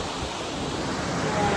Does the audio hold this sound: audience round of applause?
no